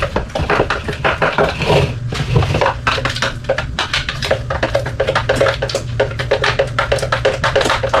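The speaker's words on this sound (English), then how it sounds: "just a little less than half my mixture into my nut butter here. I'll just kind of stir that in" Chocolate mixture being stirred into almond butter in a bowl, a continuous close scraping and sticky churning with small clinks of the utensil against the bowl, steady and loud with no talking.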